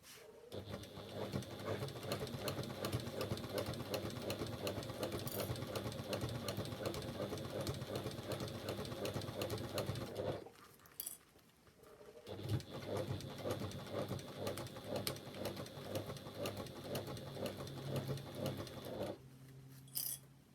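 Sewing machine stitching a zip onto a garment back piece, a fast steady mechanical whirr in two long runs separated by a brief pause, close and clear.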